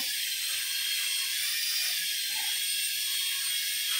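A cheap toy helicopter whirs steadily as its rotor blades spin and the whole body turns with them, giving a continuous high, thin mechanical buzz with no talk over it.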